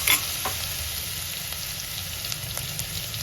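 Cumin and crushed garlic sizzling in hot oil for dal khichdi, a steady close frying hiss with a few faint stirring clicks, no voices.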